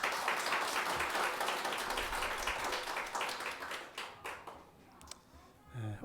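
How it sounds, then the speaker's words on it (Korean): Congregation clapping during a Sunday church service, a sustained round of applause that fades out over the last couple of seconds, with a voice coming in at the end. "우리 하나님께 감사와 영광의 박수 올려드리겠습니다."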